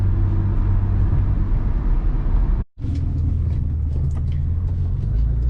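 BMW E12 car driving along, its engine a steady loud rumble from inside the cabin, broken by a brief near-silent gap around a gear change before the drone resumes.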